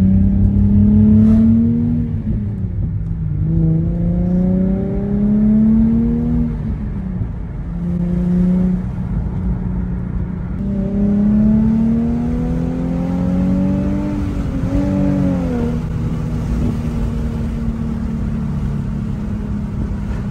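A Nissan 350Z drives around the block, its engine rising in pitch through several repeated accelerations and gear shifts, loud and steady with no talking.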